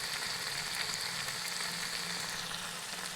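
Spice paste sizzles steadily in a hot pan while being sautéed for a Bengali new potato curry, a continuous close frying hiss with no talk.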